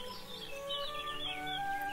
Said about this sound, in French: une brise légère lui apporta un doux chant d'oiseaux